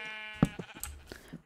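Sheep in Minecraft bleat in a quick string of short, wavering calls, loud and close, with no talking over them.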